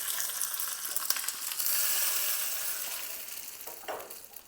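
Hot curry leaf tempering sizzles steadily as it is poured over a peanut, coconut and yogurt chutney, a loud broadband hiss that swells and then slowly fades, with a brief fresh burst near the end.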